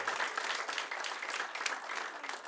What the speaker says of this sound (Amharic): አጨብጭቡ ለእግዚአብሔር ክብር ይሁን።